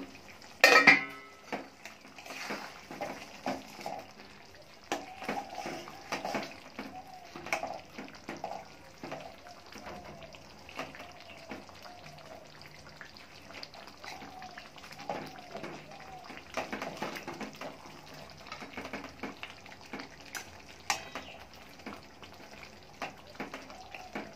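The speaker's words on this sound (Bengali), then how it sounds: "এবার আমি মাছগুলো দিয়ে মাছগুলো একটু ফুটিয়ে নেব।" Katla fish simmering in gravy in a cooking pan, with soft bubbling, repeated scrapes and clinks of a spoon stirring against the pan, quiet and close, with a voice speaking faintly in the background.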